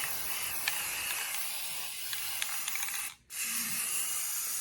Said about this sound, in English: I'm just gonna spray one side,